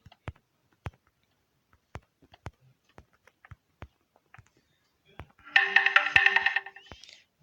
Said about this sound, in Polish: SMS mi przyszedł, tam wiadomość jakaś